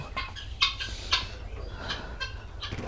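Quail on a farm call repeatedly close by, short chirping and clucking notes coming in quick bursts over a faint background hum.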